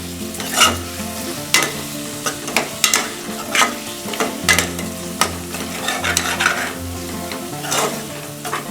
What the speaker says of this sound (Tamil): இது சேர்த்துட்டு நல்லா கலந்து விட்டுறலாம்